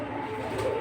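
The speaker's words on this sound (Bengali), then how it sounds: "সবগুলোই ফ্লাইয়ের কবুতর যাবে।" Flying-breed pigeons give a brief, soft, low coo against a faint background murmur, heard alone without talk.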